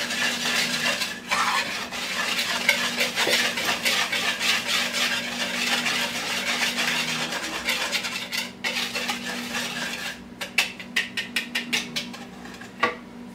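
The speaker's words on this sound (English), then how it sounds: "We're going to give that a little stir." A utensil stirs chocolate chess pie filling with evaporated milk in a bowl, making continuous rapid scraping and clinking against the sides that slows into a few separate taps near the end.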